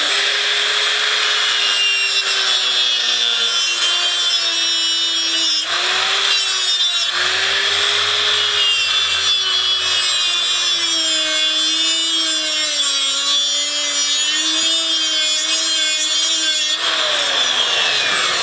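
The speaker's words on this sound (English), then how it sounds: "And cutoff tool." A cutoff tool grinds steadily through metal on an old guitar stool, a loud continuous high whine that wavers in pitch as the load changes, with brief dips throughout and no talking.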